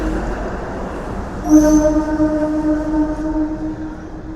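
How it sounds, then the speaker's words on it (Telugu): A DEMU passenger train on the Nandyal to Tirupati run arrives with a low rumble, then sounds a long, steady, tonal horn that holds to the end. "మన డిఎంఓ ట్రైన్ అయితే వచ్చేసి"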